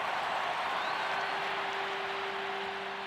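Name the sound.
stadium spectators applauding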